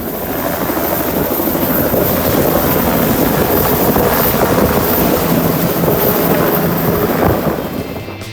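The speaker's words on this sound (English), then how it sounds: "there's a helicopter bringing in a sick patient" A helicopter bringing in a sick patient to a hospital, a loud continuous rotor and turbine roar that holds steady throughout, close by and with no talking.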